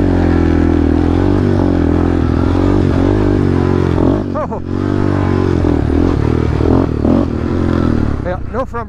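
A Can-Am Renegade 1000 ATV roars along a trail with a loud, throbbing engine that revs and surges, while clattering and scraping come and go and voices talk over it.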